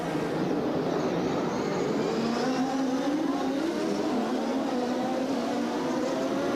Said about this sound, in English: The green flag comes out. Emerson Fittipaldi moves to the front